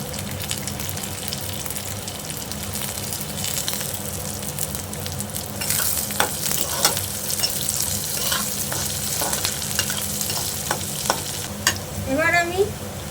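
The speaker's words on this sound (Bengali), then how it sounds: "এবার দিয়ে দিচ্ছি কাজু কিশমিশ।" Cashews and raisins frying in oil in a pan while a tomato dorma is cooked, a steady close sizzle with stirring scrapes and brief clinks, no talking.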